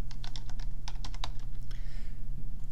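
SQL is typed into Oracle Apex on a computer keyboard as a fast, irregular burst of soft key taps, about a dozen in under two seconds, over a steady low background hum.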